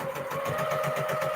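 A home sewing machine chain piecing 2.5 inch quilt squares with a 1/4 inch seam allowance for a baby quilt, running in a steady fast rhythmic whir with a constant motor hum, close and alone.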